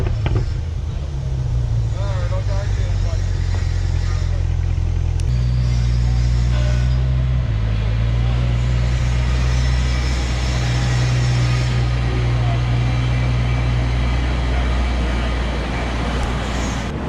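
A C8 Corvette rolls into an exhaust shop, its engine giving a steady, loud low rumble that runs through the whole stretch, with pitch shifts partway through as it moves.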